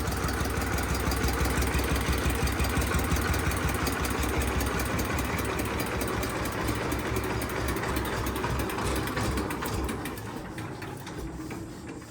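A 55-year-old DT 14 tractor engine runs on its own with a steady, close, loud chugging that eases slightly in the last couple of seconds.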